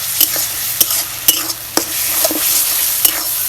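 Meat being stirred and fried in a pan alongside pasta-dish cooking: a steady close sizzle punctuated by sharp scraping clicks of the spoon against the pan every half second or so, no voices.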